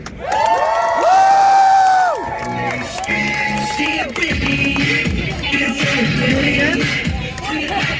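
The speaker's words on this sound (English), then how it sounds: "let's give a round of applause for her right now" A crowd at an outdoor #FreeBritney rally cheers, whoops and shouts loudly, swelling early and then continuing in scattered bursts of voices and cheers.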